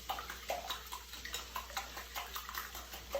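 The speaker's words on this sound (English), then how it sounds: "And we're gonna whisk it up real good." Beaten eggs with grated Parmesan are whisked in a bowl in a home kitchen. The whisk makes quiet, rhythmic clicks and light scraping strokes against the bowl, low and steady throughout.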